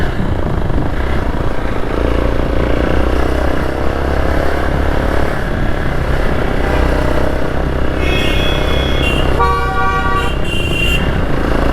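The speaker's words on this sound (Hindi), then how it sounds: "हल्का फुल्का ट्रैफिक तो यहाँ पे भी है भाई।" Light road traffic near Solang Valley outside Manali, a constant engine rumble from cars, motorcycles and trucks, with repeated horn toots and honks breaking through in the second half, close and loud.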